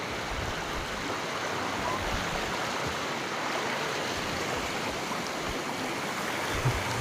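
A swollen river keeps rising as its water rushes steadily through rapids, a loud, continuous, broadband roar with no pauses and no voices.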